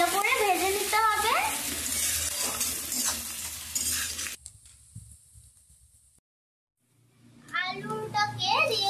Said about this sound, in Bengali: আদা কুচি, রসুন কুচি, লঙ্কা কুচি, সমস্ত উপকরণকে একটু ভালো করে ভেজে নিতে হবে।